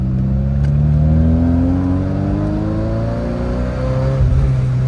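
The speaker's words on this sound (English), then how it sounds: "does it sound like a perfect Ferrari V8 paired with that gated 5-speed shifter" A 40-year-old Ferrari V8 with a gated 5-speed shifter revs hard, its loud rising engine note climbing steadily through a pull before easing off, heard close and alone.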